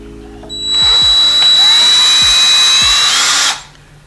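A power drill spins up sharply and whines loudly for about three seconds while boring a hole, with faint clicks partway through, then cuts off abruptly into near silence.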